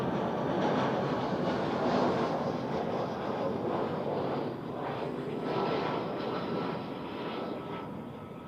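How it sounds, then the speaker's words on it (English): A passenger airplane landing at Zurich Airport produces a loud, continuous engine roar and rushing noise that holds steady and eases off slightly toward the end. "that must have been one of the smoothest landings we have seen today"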